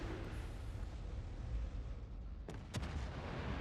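Warship guns boom in a World of Warships: Legends naval battle, with a steady low roar of distant gunfire rumbling throughout and two sharper blasts standing out near the end.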